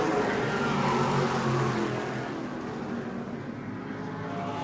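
Race cars at New Smyrna Speedway roaring past close by, a loud, dense engine howl that peaks early and then fades slightly as the pack moves away.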